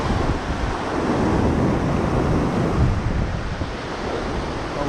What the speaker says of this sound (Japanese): すごい川の流れ。